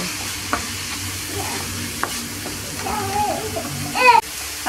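Vegetables, including zucchini and pumpkin, stirred in a pan as they fry for a Moroccan msemen stuffed with kefta and vegetables, with steady soft sizzling, scattered spoon knocks against the pan and a voice briefly in the background.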